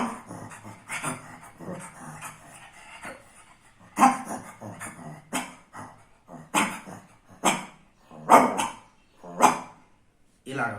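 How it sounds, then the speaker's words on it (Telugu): A dog barks at strangers arriving at a house, giving about ten sharp, loud barks in uneven bursts separated by short pauses, with some softer whining sounds between them. "మనం కొత్త కుక్కలు అంటే కొత్త మనుషులు ఒక ఇంటికి వస్తే ఆ కుక్క ఎలా అరుస్తుంది"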